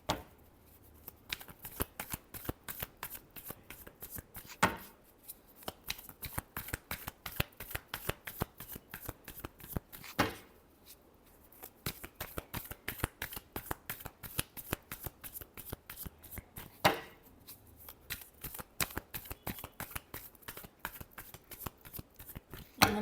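Tarot cards are shuffled close up in long riffling bursts of fast papery flutters, separated by short pauses and sharp snaps as the deck is squared, with no one talking.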